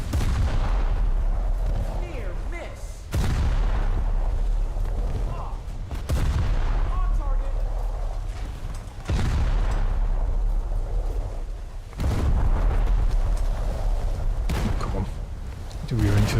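A shell room blowing up on a warship in a naval combat game, deep booming explosions recurring every few seconds amid heavy battle rumble, with a voice talking over it.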